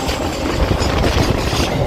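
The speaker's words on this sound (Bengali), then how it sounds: "এই মুহূর্তে আমাদের সঙ্গে দেখা হবে 12306 হাওড়া রাজধানী এক্সপ্রেসের সঙ্গে" The 12306 Howrah Rajdhani Express rushes past nearby with a loud, continuous rumble and rattling wheel clatter that fills the whole stretch.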